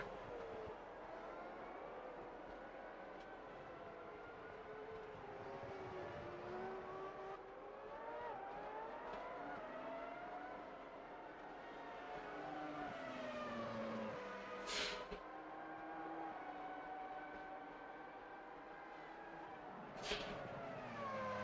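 Race car engines in Automobilista 2, Formula-style cars, drone and whine continuously, pitch rising and falling with gear changes, a couple of brief sharp bursts cutting through, with no voices.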